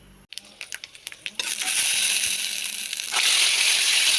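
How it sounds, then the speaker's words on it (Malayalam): Mustard seeds, dried chillies and curry leaves hit hot oil: sharp popping crackles first, then a loud, steady sizzle that swells further after a few seconds, close by and without speech. "ചൂടായ എണ്ണയിലേക്ക് നമ്മൾ കടുക് ഇട്ട് കൊടുത്തു ഉണക്കമുളക് ഇട്ട് കൊടുത്തു കറിവേപ്പില ഇട്ട് കൊടുത്തു"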